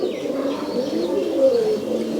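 Jag Mukha pigeons coo in a farm loft, a steady low burbling chorus with a few faint higher chirps, close and moderately loud.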